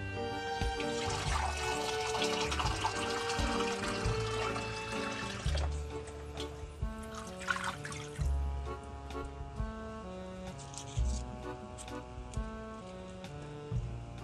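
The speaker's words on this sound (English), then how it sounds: "add water to cover the meat." Water pours into a crock pot over a pot roast, giving a soft, steady splashing rush for about five seconds that then gives way to faint, sparse drips, all quiet beneath background music.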